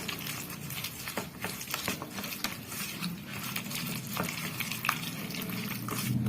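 Vada batter with buttermilk and soda being stirred and mixed by hand in a bowl, producing a continuous wet, squelching churn with irregular scraping clicks, close and moderately loud.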